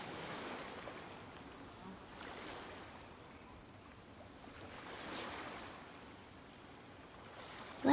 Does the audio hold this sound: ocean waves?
yes